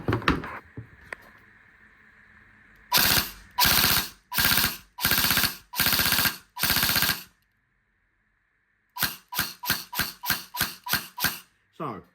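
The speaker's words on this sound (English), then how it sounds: "So we will now just make sure that this gun is operational." A Tokyo Marui G36 custom airsoft gun, freshly rebuilt and shimmed, fires in short bursts of sharp mechanical rattling, first five longer strings, then a faster series of quick bursts, with a faint motor whine and brief voice at the start.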